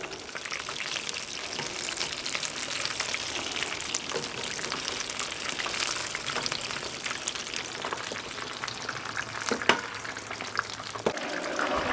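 A halved haddock fillet frying in beef dripping in a fish-and-chips fryer gives a steady, moderate, bubbling sizzle with a few small pops and clicks, with no voices.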